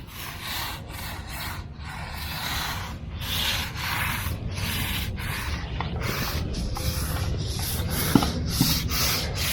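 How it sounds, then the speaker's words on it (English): Stiff-bristled broom swiping sealer across concrete outdoors on a cool morning, a steady run of rough scrubbing strokes that pulse repeatedly over a low background rumble, close and moderately loud, with no talking. "give it a couple more swipes with the broom"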